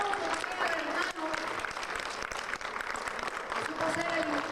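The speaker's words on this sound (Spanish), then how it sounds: "Vamos a dar un aplauso también al hermano" Steady applause from a church congregation fills the space as a broad wash of clapping, with a voice talking over it throughout.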